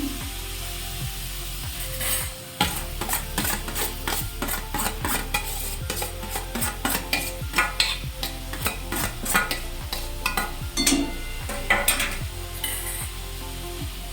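Grated beetroot in hot ghee, stirred in a pan with a utensil scraping repeatedly across the metal in quick uneven strokes over a low, constant sizzle, close up and without speech.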